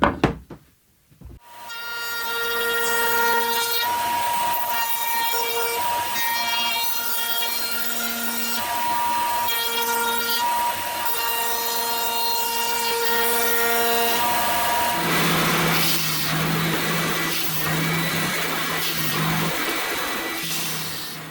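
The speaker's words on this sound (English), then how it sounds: "Next I will smooth out these sharp edges. I'm just using my router bit, 45-degree router bit" A router fitted with a 45-degree bit smoothing the sharp edges of old wooden window sun shades, a loud steady high-pitched motor whine that shifts to a lower, rougher cutting tone partway through, close and continuous with no speech.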